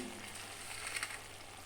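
Tamarind water boiling in a pan, a soft continuous bubbling sizzle with a few brief louder pops near the middle, quiet and close, no voices.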